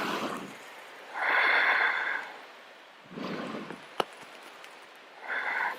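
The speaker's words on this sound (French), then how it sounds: "Encore 3 respirations." Slow, deep breaths taken while holding a yoga pose, with three long audible inhale-exhale swells that rise and fall at a steady, unhurried pace and sit close and fairly soft, with no talking.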